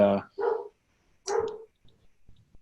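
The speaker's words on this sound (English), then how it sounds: "my dog is going nuts" A dog barks close by, three sharp barks in quick succession followed by a few faint thumps and softer sounds as it settles.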